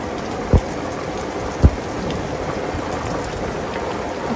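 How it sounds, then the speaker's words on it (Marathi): Heavy rain roars steadily, a thick constant wash of noise, broken by two dull thumps early on; no voices. "हे बघा पब्लिक किती पाऊस चालू आहे"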